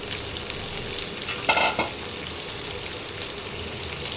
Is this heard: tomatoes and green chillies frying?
yes